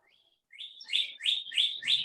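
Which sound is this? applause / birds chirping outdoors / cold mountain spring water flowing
birds chirping outdoors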